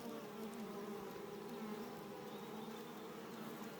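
Native Korean honeybees swarming at their hive entrance make a dense, continuous buzzing hum, close and steady throughout, with no voices.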